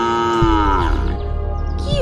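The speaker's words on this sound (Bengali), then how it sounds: "তাই দেখে গরুটা জোরে জোরে ডাকছে।" A cow lows loudly in a long, drawn-out call that bends in pitch, then a second call starts near the end, close and clear over steady background sound, in a story about a big snake in the Sundarbans.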